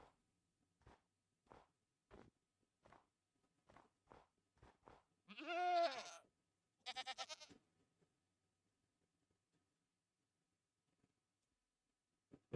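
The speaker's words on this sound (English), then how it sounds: "I hear goats" Goats bleat in the game VH3Remastered: one long, loud wavering bleat and a shorter stuttering one rise over sparse quiet ticks and soft footstep-like taps, then fall away into near silence.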